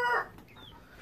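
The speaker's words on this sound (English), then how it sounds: "this is a Bantam silver-laced Wyandotte." A full-grown bantam silver-laced Wyandotte hen gives a short, loud cluck at the start, followed by quieter, softer cackling trailing off nearby.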